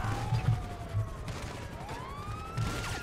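Police gunfire in the video game GTA 5: rapid, muffled bursts of shots layered over wailing police sirens, with a steady, busy game soundscape behind them and no clear voices.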